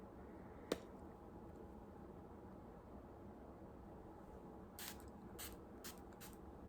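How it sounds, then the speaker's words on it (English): A faint click followed later by several short, hissing bursts of a spray bottle, quiet against a low background hum. "now time for the ending step of setting spray"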